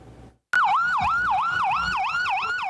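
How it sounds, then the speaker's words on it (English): A loud vehicle siren wails in a fast, regular up-and-down cycle during a holiday gift run in Harlan County. It kicks in abruptly after a brief quiet moment and sounds close. "We just stay on these hollers and go up these roads and turn the siren on"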